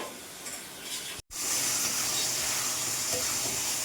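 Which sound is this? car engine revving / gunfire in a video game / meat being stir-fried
meat being stir-fried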